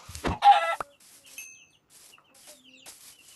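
A video game chicken clucks and squawks briefly, followed by a few faint chirps and clicks over near silence.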